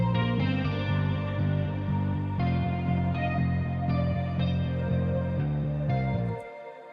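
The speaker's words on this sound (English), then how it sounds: "some Valhalla Shimmer" Lush synth chords drenched in shimmering, echoing Valhalla Shimmer reverb in FL Studio ring out in sustained layers before the sound cuts off abruptly.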